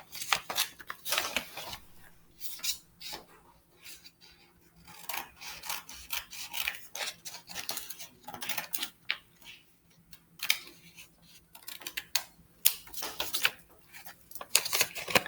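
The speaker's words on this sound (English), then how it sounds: "I have to cut along this line" Paper being cut along a drawn line with scissors after being folded in half, heard as quiet, irregular rasping snips and rustles, close up and alone, with brief pauses between cuts.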